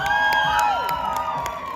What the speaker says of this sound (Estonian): Aplaus teile endale.